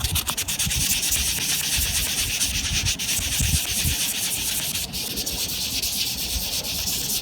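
Fine-grit sandpaper, wet and folded in thirds, rubs by hand over the housing of a Western Electric Model 500 desk phone, a continuous close, hissing scrub with slight variations in pressure and no voices.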